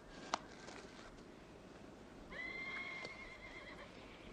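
A horse whinnies at a distance in a western film scene, a faint drawn-out neigh rising over low background noise and a sharp click near the start.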